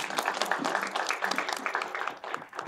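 An audience claps at a public event, brisk and uneven, at moderate volume, mixed with crowd voices and chatter.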